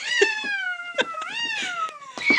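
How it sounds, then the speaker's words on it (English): A small kitten meows in a long, drawn-out, caterwauling cry at close range, rising and falling in pitch, with a few faint rustles behind it. "We're trying to catch a little kitty now."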